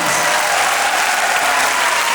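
A concert audience at a Lezgin festive event applauds young tightrope walkers from a children's circus school, with dense, steady clapping that runs continuously without a break.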